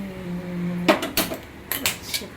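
A wok set down on a kitchen stove gives a few sharp metallic clanks and knocks, close and moderately loud, after a steady low hum.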